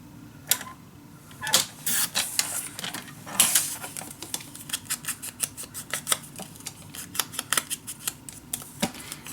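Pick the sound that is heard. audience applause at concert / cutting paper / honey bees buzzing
cutting paper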